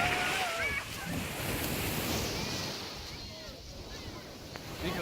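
Strong ocean surf at Boracay beach, a steady rushing wash of waves with gusting wind on the microphone, and faint voices and shouts over the water.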